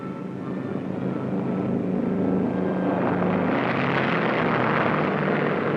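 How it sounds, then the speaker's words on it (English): A four-engine B-29 bomber carrying the X-1 rocket plane takes off in archival film, its propeller engines building to a loud, steady roaring drone that swells and brightens, with no talking. "the X-1 becomes airborne on its first attempt to exceed the speed of sound"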